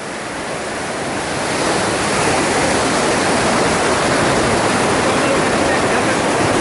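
Sea waves surge and crash over coastal rocks, a loud continuous roar of churning surf and spray close by, swelling in the first seconds and then holding steady, with wind buffeting the microphone.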